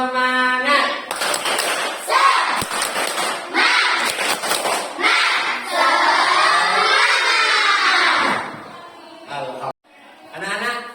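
Schoolchildren chant in unison while clapping in rhythm, loud shouted syllables punctuated by sharp claps in short bursts, ending with a brief pause and a final clap.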